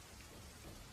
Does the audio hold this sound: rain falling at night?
yes